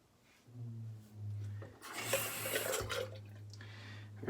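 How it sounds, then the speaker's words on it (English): A Karve safety razor is given a quick rinse under running water, with a short gushing splash near the middle. A low tap hum runs steadily underneath, and the sound is fairly quiet overall. "Quick rinse."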